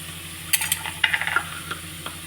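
Masala spices sautéing in a pan for navadhanya sundal, with a few soft stirring scrapes and light sizzles in short bursts, faint and close, no talking.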